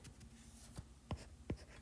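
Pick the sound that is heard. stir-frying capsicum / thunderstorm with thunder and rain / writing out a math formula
writing out a math formula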